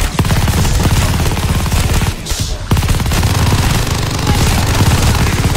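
Rapid automatic gunfire in a Call of Duty Vanguard zombies match, loud dense bursts of shots nearly continuous with a brief pause midway, then resuming.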